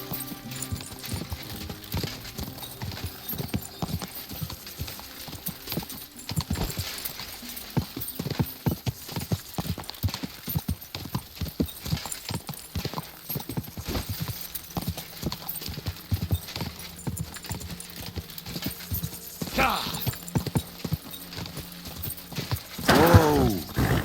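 Horse hooves clip-clop steadily in Kingdom Come: Deliverance II, a close rhythmic trot over game ambience, ending with a brief whinny near the end.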